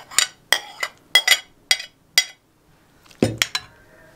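Pieces of fried eggplant are spooned into a deep bowl: a series of sharp clinks of a utensil against the dish at uneven intervals, then a heavier clatter and a few quick taps, close and clear.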